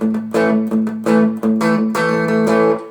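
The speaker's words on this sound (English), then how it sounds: "Pretty much a bright guitar tone with just a pinch of distortion, that unique kind of distortion that he used to get." An electric guitar with a bright tone and a slight touch of distortion plays a palm-muted groove, with short rhythmic chord stabs that sound close and clear, and no talking.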